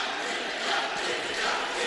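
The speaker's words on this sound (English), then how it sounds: "And you hear the crowd" Crowd at an India vs China volleyball match cheering and roaring in a broad, sustained wash of noise from a large arena audience, steady and fairly loud with no distinct voices.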